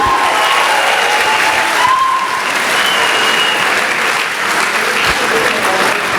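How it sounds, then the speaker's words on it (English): Audience at a high school senior awards night applauding the winners, loud continuous clapping with scattered cheers and brief whistles over the crowd. "round of applause for everyone that won"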